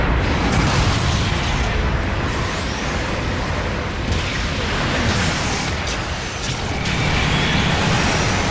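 Long-range support fire explosions in the Mobile Suit Gundam Battle Operation video game, a loud continuous roar of overlapping blasts and rumbling booms filling the whole stretch without pause.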